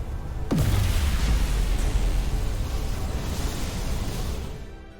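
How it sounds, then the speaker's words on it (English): A dilithium crystal explodes in the video game Star Trek: Resurgence as one deep, heavy boom that sweeps downward, then rolls into a long rumbling roar that slowly fades. "Dilithium explosion!"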